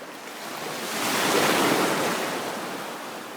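Ocean waves surge and wash ashore at the beach, a steady broad rush that swells louder mid-clip and eases off, with some wind buffeting the microphone and no voices.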